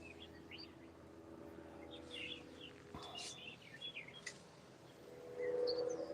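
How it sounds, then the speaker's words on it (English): Small birds chirp and tweet in short, scattered calls from a balcony, fairly faint against a steady low background hum. "I hear the birds now on your balcony"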